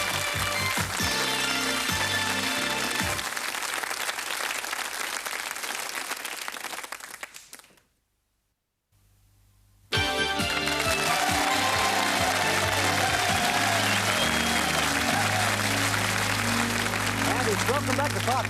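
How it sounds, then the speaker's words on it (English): Loud studio audience applause from a TV game show crowd fills the air, cutting to near silence midway before resuming at full volume as a steady wash of clapping. "give him a round of applause, folks"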